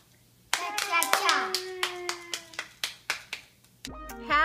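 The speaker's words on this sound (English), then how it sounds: "Clap." At a birthday party, several people clap their hands in a loose, uneven run of sharp claps, with children's voices and chatter mixed in.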